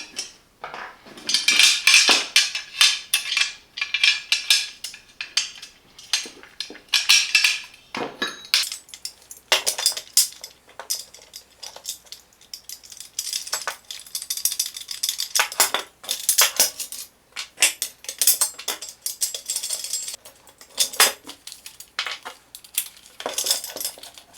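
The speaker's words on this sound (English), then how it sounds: "So I need to remove this screw." Metal clinks and rattles while a screw is removed during assembly of a Parkside workbench, with irregular bursts of tool and hardware clatter close by, separated by brief quiet gaps and no talking.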